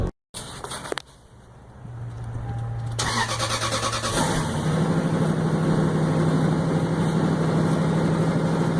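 A 22-year-old Lexus with 312,000 miles, left unstarted for about two weeks, cranks briefly after a click and fires up. The engine then settles into a steady, loud idle that carries on to the end.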